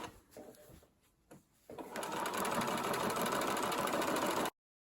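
A sewing machine runs a straight stitch along a skirt seam, starting after a quiet pause with a few soft handling sounds, then a steady, fairly loud continuous whir that stops abruptly near the end.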